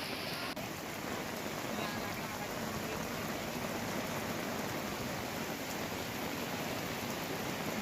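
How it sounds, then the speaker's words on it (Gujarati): Heavy downpour over flooded streets in Bardoli, Surat, Gujarat, a dense continuous hiss of rain hitting water and hard surfaces, steady and enveloping with no breaks and no voices. "ધોધમાર વરસાદ પડી રહ્યો છે"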